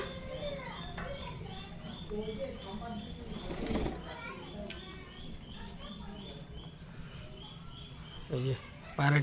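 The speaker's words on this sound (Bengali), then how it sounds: "এই যে পায়রাটি চলে আসছে" A pigeon flutters in to feed with soft wingbeats and cooing among other birds, faint and outdoors, while children play and voices talk in the background.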